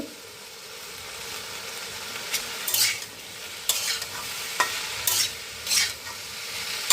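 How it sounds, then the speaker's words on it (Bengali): Okra is stir-fried over high heat in a pan, a continuous sizzle broken by several sharp spatula scrapes and stirring bursts, close and fairly loud. "এগুলোকে গ্যাস বাড়িয়ে নাড়বো নেড়ে ভাজবো"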